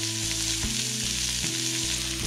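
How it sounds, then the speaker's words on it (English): Onions brown in a pan over medium heat, giving a dense, continuous sizzle close up with a low steady hum beneath and a few faint scrapes, no talking. "Next step is browning the onions."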